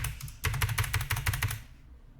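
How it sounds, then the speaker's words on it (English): A computer keyboard clatters with a quick burst of rapid key clicks, close and moderately loud, then stops short with one last tap. "Click my keyboard a bunch."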